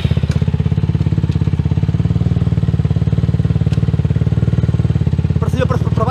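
A Suzuki LTR 450 quad bike engine runs close and loud with a steady, rapid pulsing thump, while a voice shouts instructions near the end.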